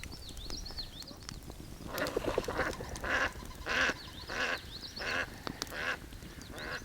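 Ducks on a wilderness lake give a series of repeated quacks and honking calls at moderate distance, rising and falling in short bursts over several seconds amid faint outdoor ambience.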